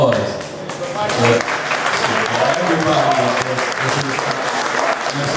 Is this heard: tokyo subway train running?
no